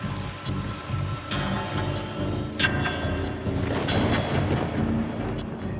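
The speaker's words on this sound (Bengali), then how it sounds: "মঙ্গলবার আলিপুরদুয়ারে অতি ভারী বৃষ্টি হয়।" Very heavy monsoon rain pours in Alipurduar, North Bengal, a steady loud broadband roar, with low rumbles of thunder rolling underneath throughout.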